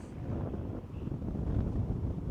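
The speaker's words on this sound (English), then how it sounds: "it's actually a little bit windy down here today" Steady low wind buffets a DJI Mic 2 fitted with a windsock outdoors, a continuous rumbling roar with no other sounds.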